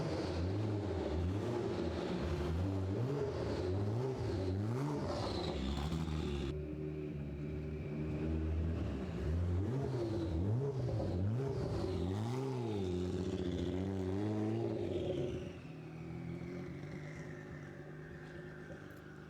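An engine-swapped car is driven with a continuous loud engine drone, the pitch climbing and dropping through repeated accelerations, then easing off to a quieter rumble near the end.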